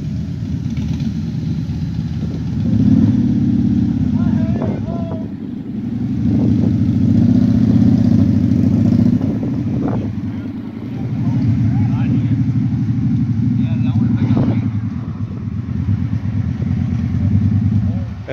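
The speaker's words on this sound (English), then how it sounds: "And here comes the truck, the Big Mack." Vintage Mack truck rolling past a group of bikers, a heavy low engine rumble that swells and fades in waves over about eighteen seconds, with scattered voices audible now and then.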